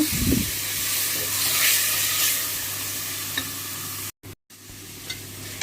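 Onion-tomato masala with yogurt sautéing for prawn biryani, a continuous close sizzle and hiss with stirring scrapes, then a brief cut to silence before the frying resumes.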